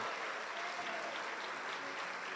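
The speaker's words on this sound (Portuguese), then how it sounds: "Vamos aplaudir a Ele, dignos de louvor e de honra." A church congregation claps together during a Sunday morning worship service, a dense, even wash of applause that stays constant and fairly distant throughout.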